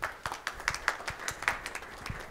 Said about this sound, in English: please hold with the applause until after I've hopefully earned it